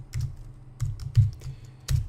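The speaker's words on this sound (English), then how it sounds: "Maybe I should just type all of these first." Keys on a computer keyboard are tapped in short, quiet bursts, a few clustered keystrokes at a time with brief pauses between them, close and alone.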